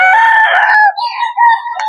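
Roosters crow at the Bocaue chicken market, one long strained cock-a-doodle-doo close and loud followed by overlapping crows from other birds, filling the short stretch without any voices.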